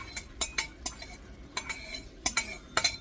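Utensil scrapes and clinks against a pan as bacon and sausage are stirred into cowboy spaghetti with jalapenos, a series of sharp close knocks spaced irregularly over quiet background.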